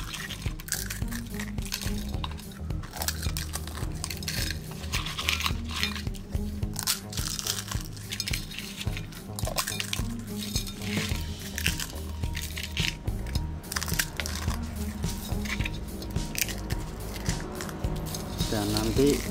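Eggshells crushed by hand for homemade calcium-rich plant fertilizer, a close, continuous crackling and crunching with dry brittle snaps throughout, under a voice.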